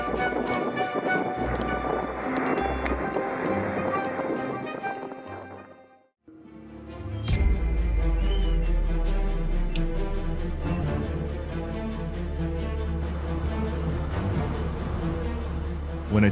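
A train caught in a tornado: a dense, roaring rumble of wind and rolling rail noise, loud and sustained, briefly dropping out before surging back even heavier.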